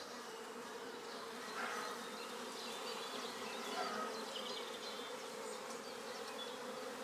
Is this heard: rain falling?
no